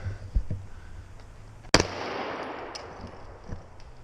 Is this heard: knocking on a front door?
no